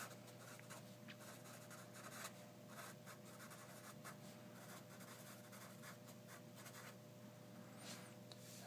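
Pen or chalk writing out Bayes' theorem during a decision theory lecture, a faint, steady scratching of strokes over a constant background hum, with no talk.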